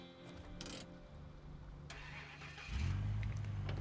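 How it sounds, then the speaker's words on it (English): In the SnowRunner video game, a truck engine running on about two litres of fuel misses and stumbles in a rough, uneven drone, then surges into a louder, steadier hum near the end, with no talking. "the engine is to the point that it's missing"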